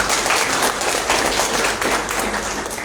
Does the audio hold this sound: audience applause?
yes